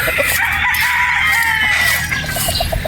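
A Boston Roundhead broodstag with a straight comb crows loudly and close by in one long drawn-out call, and other clucking fowl are heard near the end.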